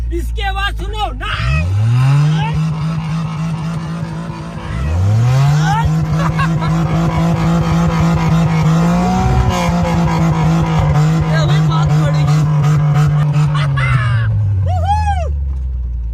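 A homemade 4x4 car built by joining two cars, with two engines and two steering wheels, revs hard twice, each rising roar then holding at a high, loud, sustained pitch before winding down.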